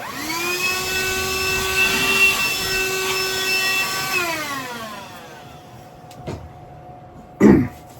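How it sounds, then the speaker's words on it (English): A vacuum cleaner hoovers up spilled static grass with a steady, close, whining drone that winds down and fades after about four seconds. A few faint knocks follow, then a short cough-like burst. "I'll hoover up the rest."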